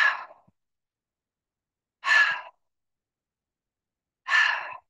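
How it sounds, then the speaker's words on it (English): Three separate breaths pushed out through the mouth during slow qigong practice, each a soft airy whoosh about half a second long, spaced roughly two seconds apart with silence between. "it's an in breath and it's an out breath through the mouth."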